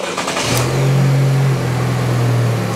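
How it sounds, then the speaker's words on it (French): A GM 1.4L engine with stop-start and air conditioning, mounted on a training test bench, runs steadily after starting, giving a loud, even mid-pitched drone that keeps going to the end. "Assurons-nous-en et démarrons le moteur"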